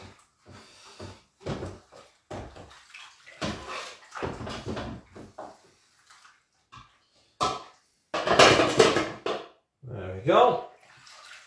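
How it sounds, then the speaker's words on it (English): A baking tin is washed out with water at a kitchen sink, with intermittent splashes, running water and metallic knocks in bursts between pauses, ending in a louder rush of water, with someone speaking briefly. "I'll give this tin a wash out."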